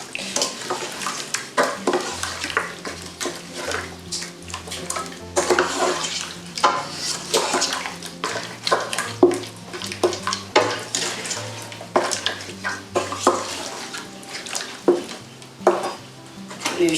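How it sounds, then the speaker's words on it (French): Spoon scraping and stirring a catfish papillote mixture inside a metal cooking pot, repeated clanks and scrapes with a soft sizzle beneath, close and continuous throughout. "Là, je mélange le tout."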